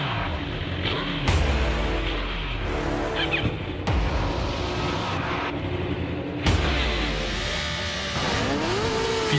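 Superbikes at a race start, a Kawasaki, Suzuki, Yamaha R1 and Honda CBR 1000, roaring loudly and continuously with rising and falling engine pitch as they accelerate through gear changes, several sharp new surges of revving, no voices.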